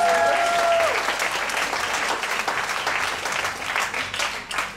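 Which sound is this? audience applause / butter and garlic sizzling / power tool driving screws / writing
audience applause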